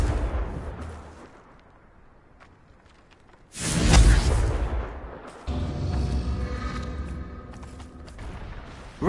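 A Confringo fire spell from Hogwarts Legacy bursts into a loud, close explosion with a deep boom and whooshing blast, then trails into a sustained rumbling roar over a low, murky game ambience.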